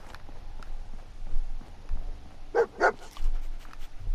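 A dog in the video game Fallout 4 gives two quick, sharp barks close by, over quiet ambient game sound and soft footsteps.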